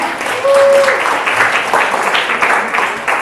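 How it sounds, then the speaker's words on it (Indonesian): A class applauds a student after a teaching presentation, a loud close burst of clapping from a room full of people, with some voices and a brief whistle-like tone near the start. "Silakan tepuk tangan untuk Dava."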